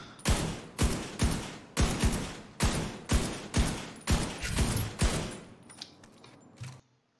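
In The Division 2, a primary weapon fires about ten evenly spaced, loud gunshots in a steady rhythm, then a fainter shot or two as the volley trails off.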